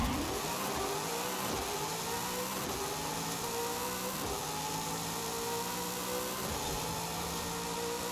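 A drag car in Forza Horizon 5 launches hard and accelerates, its engine note climbing through repeated rising sweeps with quick gear-change dips, loud and continuous throughout, with no talk.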